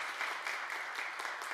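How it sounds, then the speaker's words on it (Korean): A church congregation at a Sunday worship service claps in a steady burst of applause, dense and even from start to finish, with no speech over it. "박수 한번 쳐주십시오."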